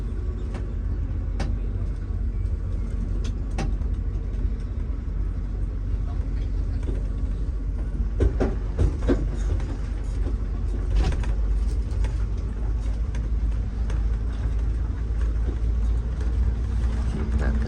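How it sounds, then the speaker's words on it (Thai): A motorhome pulls in and parks at Talat Chalong Krung market, its engine rumbling low and steady at close range, with a few clunks and knocks along the way. "รถบ้านจอดเลยครับพี่น้อง"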